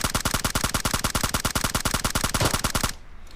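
Full-auto rifle fire in PUBG Mobile, a loud, close, evenly spaced stream of rapid shots that runs for nearly three seconds and then cuts off sharply into quiet.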